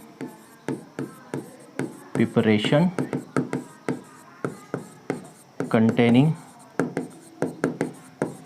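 Marker or chalk strokes on a classroom board during a lesson, a quick rhythmic series of close scratchy taps and swipes, with someone briefly talking twice between the strokes.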